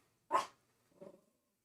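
Gus the dog gives a short sharp bark followed by a softer, lower huff-like growl about half a second later, close and fairly quiet, no talking.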